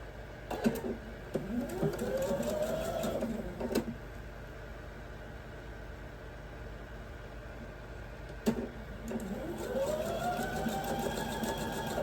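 Sewing machine stitching sashing strips onto quilt blocks, running in two bursts of steady rapid whirring with clicks at the starts and stops and a quieter pause between, heard alone and up close.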